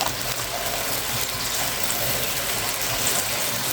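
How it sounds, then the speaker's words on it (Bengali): Water is poured into a pan of coral fish curry. The sound is a steady, broadband gushing and splashing that runs continuously for the whole stretch, with no talk over it. "এ পর্যায়ে আমি জল দিয়ে দেবো"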